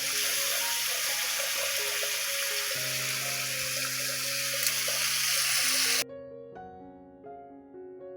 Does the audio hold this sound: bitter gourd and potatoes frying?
yes